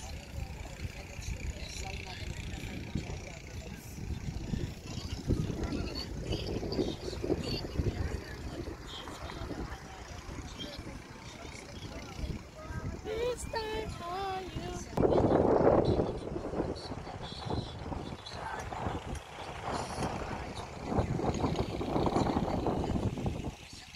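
Wind buffets the microphone in uneven gusts, rumbling low over an outdoor scene with people talking and a distant engine hum.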